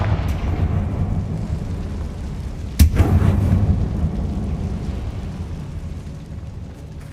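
A Confringo fire spell explodes inside an abandoned mine in Hogwarts Legacy, a single sharp blast partway through that rumbles briefly over a steady low background drone.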